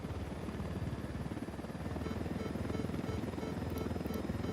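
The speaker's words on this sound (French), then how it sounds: "Je vois un hélico." Helicopter in the video game Ghost Recon Wildlands, a steady loud rotor thrum with dense low chopping throughout, as if flying nearby.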